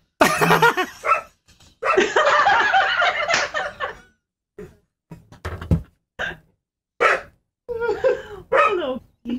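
A dog snorts and sneezes in loud bursts, then gives several shorter snuffling huffs with pauses between them, close by.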